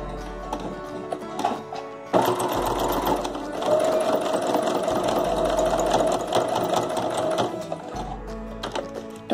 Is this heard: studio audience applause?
no